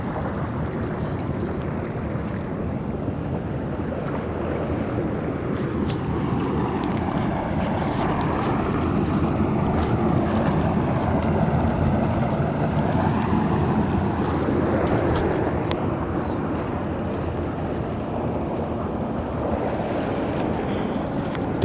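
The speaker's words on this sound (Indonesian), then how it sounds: "Jalan menjadi aliran sungai ini ya" Floodwater rushes down a village road turned into a river during a flood, a loud, constant turbulent wash with wind buffeting the microphone and no voices.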